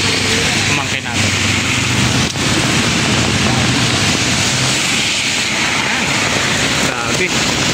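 Steady rain falls on a city avenue, a loud, continuous hiss of water hitting the street with traffic rumbling along in the background.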